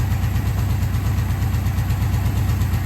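A 1978 Suzuki GS750 motorcycle engine idles steadily up close, a loud, even, throbbing pulse that continues without a break and with no voices.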